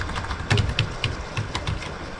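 Typing on a computer keyboard: a run of quick, fairly close key clicks in an uneven rhythm, with a few heavier strokes standing out, and no talking.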